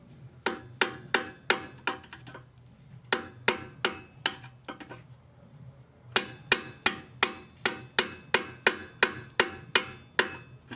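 Repeated hammer blows on a car exhaust during a first-time exhaust install, sharp metallic strikes in quick bursts of several hits with short pauses, close and loud.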